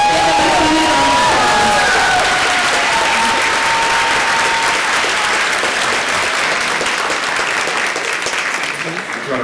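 A crowd at a Bachelor of Innovation celebration and reunion breaks into loud, close applause mixed with cheers and whoops, sustained for nearly ten seconds before tapering slightly.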